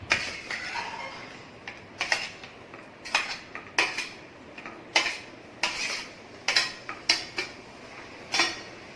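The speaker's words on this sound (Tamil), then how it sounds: "இப்போ சிக்கன் சேர்த்து நல்லா மிக்ஸ் பண்ணிடலாம்." Chicken pieces being mixed into a turmeric marinade in a bowl for chicken tandoori, giving a steady run of sharp clinks and scrapes against the bowl, close and moderately loud, with no talking.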